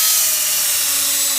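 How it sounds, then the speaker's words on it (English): Power drill boring a hole into a wooden log for mushroom plugs: a steady, loud, high-pitched whine held without pause, close up and alone, with no talking. "last hole to drill right there"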